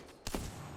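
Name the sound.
gunfire from a gun in Apex Legends video game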